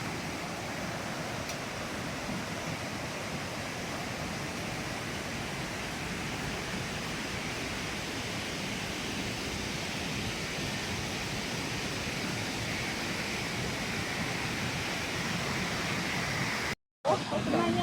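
River water flowing beside a riverside campsite at Tengas, Lawin, a constant broadband rush heard close and steady throughout, with faint voices underneath.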